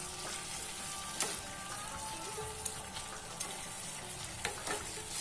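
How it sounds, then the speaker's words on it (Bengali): Ginger paste sautéing on medium flame in a pan, a soft steady sizzle with faint scattered crackles and occasional stirring clinks, no voices. "কষিয়ে নিচ্ছি 1 মিনিট।"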